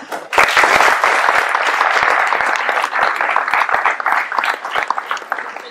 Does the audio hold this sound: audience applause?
yes